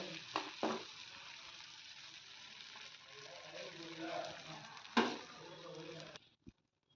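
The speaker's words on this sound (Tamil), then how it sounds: "அதுக்குள்ளே கட் பண்ணி வச்சுருந்த ப்ரெட்டை போட்டுக்கலாம்" Cut bread pieces fry in melted butter in a pan with a soft, steady sizzle, punctuated by a few sharp clicks and taps of a utensil and ending with one light knock.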